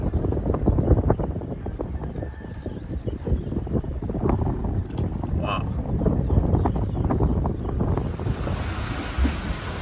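Steady wind roars over the microphone aboard a sailboat under way at sea, mixed with the wash of water against the hull, loud and continuous throughout with no speech.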